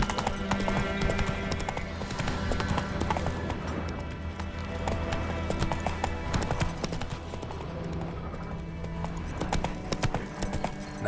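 Roach, the horse in The Witcher 3, gallops with rapid, continuous clip-clop hoofbeats over a dense game soundtrack, fairly quiet overall.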